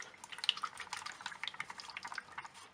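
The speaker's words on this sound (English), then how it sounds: "Put some fluid in there, shake it around," Power steering fluid is shaken around inside a container, giving a continuous quick splashing and sloshing with rapid liquid pulses, close and fairly soft.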